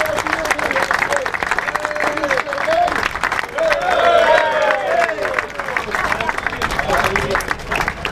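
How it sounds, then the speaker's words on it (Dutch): Crowd applause for the winning team at the Royal Swedish Olympia's Tour 2014 cycling stage race, sustained clapping from a crowd with background babble and a voice over the top. "een applaus voor de winnende ploeg van de Royal Swedish Olympia Tour"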